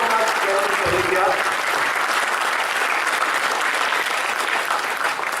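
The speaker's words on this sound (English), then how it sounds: "welcome all the panelists with a large round of applause for them" Sustained applause from a media conclave audience welcoming a panel of speakers, loud and steady throughout, with a brief voice heard over it near the start.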